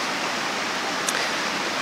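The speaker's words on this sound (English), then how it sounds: "The water flow is pretty fast" A low, clear stream flows fast, giving a steady, close rushing wash of water that stays even throughout with no voices.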